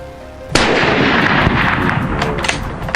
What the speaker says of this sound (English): Just a few gunshots echoed through the trees, and the target was instantly neutralized.